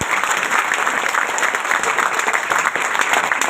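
A crowd claps loudly at a Hindi-language business plan seminar, a thick and continuous burst of applause with no voices over it.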